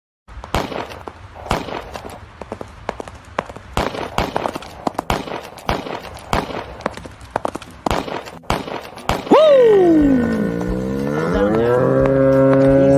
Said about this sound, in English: What the hell are you shooting at? Target practice.